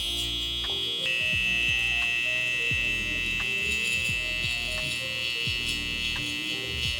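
A steady electric shaver buzz hums throughout, with a high whine and a series of short scraping strokes repeating every second or so, as a barber blends the shaver into stubble on spiky hair.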